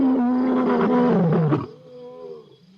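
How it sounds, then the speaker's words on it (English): A lion lets out a loud, close roar lasting about a second and a half, deep and rough with rich harmonics, then trails off into a quieter rumbling grunt. "Check out that roar."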